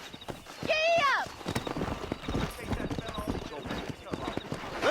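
Horse hooves clip-clop at a quick pace through a Red Dead Redemption ride, with a horse's whinny near the start and a voice talking over the steady hoofbeats.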